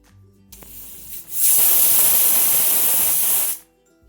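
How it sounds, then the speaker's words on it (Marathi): A pressure cooker cooking khapli wheat kheer vents steam in one loud, steady hiss lasting about two seconds, rising sharply and cutting off, with quieter kitchen noise before and after. "आता कुकरला 6 शिट्ट्या देऊया."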